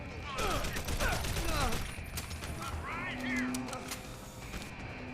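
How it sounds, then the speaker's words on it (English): Silenced gunshots in the video game Deus Ex: Human Revolution come as rapid, sharp bursts of repeated shots, close and loud, mixed under someone talking. "shooting him with silenced bullets alerted everyone, regardless"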